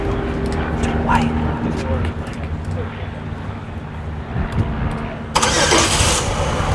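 A car engine running on a city street in an arts district, a steady low rumble with a louder burst near the end, under background chatter and crowd noise.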